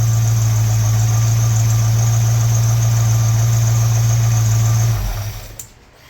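A 1968 Ford Mustang GT Fastback V8 idles steadily with a deep, even rumble and a whining hum, loud and close, before the engine shuts off and the sound dies away near the end.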